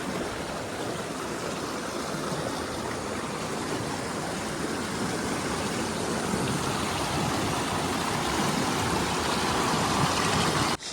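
Water rushing through a breached embankment beside stepped paddy fields after heavy rain and floods, a steady, dense, close hiss and roar that continues unbroken throughout, with no one speaking.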